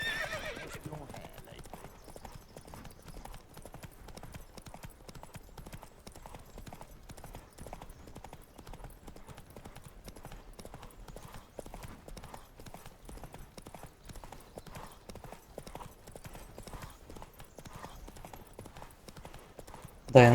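A horse gallops in The Witcher 3, steady rapid hoofbeats clip-clopping throughout with an occasional whinny, under someone talking.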